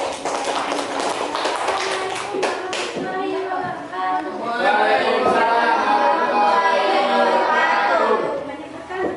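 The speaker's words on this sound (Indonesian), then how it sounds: "Tepuk tangan dulu buat kelompok 4." Classroom applause for a student group about to present: a burst of many hands clapping fills the first few seconds, then gives way to lively children's chatter and voices.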